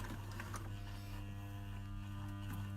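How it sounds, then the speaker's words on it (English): A sewing machine stitches coiled rope into a spiral bowl, giving a steady close motor hum and buzz with a few faint mechanical ticks over it, with no talking. "I'm going to start stitching quite carefully."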